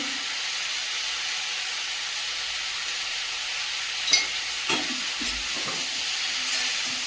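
Fresh fish with salt frying in a pan gives a steady, close sizzle and hiss, with a few brief louder bursts partway through and no speech.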